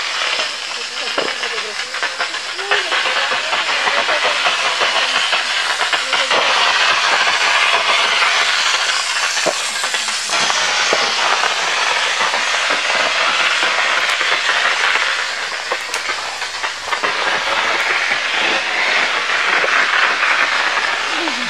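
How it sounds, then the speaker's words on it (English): A continuous broad hiss of spraying water from sprinklers running to hold back a fire fills the scene, steady and fairly loud, with occasional faint voices. "The sound in the background are sprinklers coming on to keep the fire at bay"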